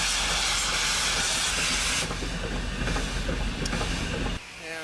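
Loud, steady steam hiss from a locomotive's cylinder cocks, broad and roaring, easing slightly midway, then cutting off abruptly near the end.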